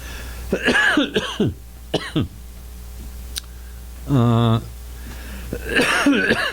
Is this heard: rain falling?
no